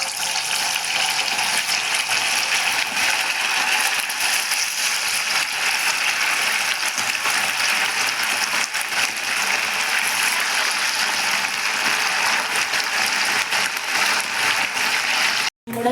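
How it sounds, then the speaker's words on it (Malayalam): Rested chicken pieces frying in hot oil in a pan, giving a loud, constant, dense crackling sizzle close by that ends abruptly. "ഇനി റെസ്റ്റ് ചെയ്ത ചിക്കൻ നമുക്ക് പാനിലേക്ക് ഇട്ട് പൊരിച്ചെടുക്കാം."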